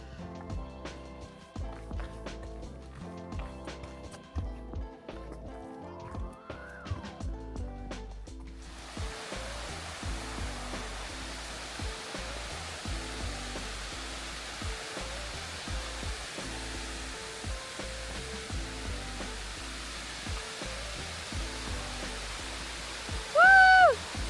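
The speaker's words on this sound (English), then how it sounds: "Not even my favorite waterfall." Rhythmic music plays at first, then a broad, steady rush of falling water from a waterfall in the Cape Breton Highlands, Nova Scotia, takes over and continues evenly to the end.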